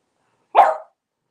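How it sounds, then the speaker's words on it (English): A single short puppy bark, loud and close, standing alone in otherwise silent surroundings. "Woof, woof, woof, woof goes the puppy"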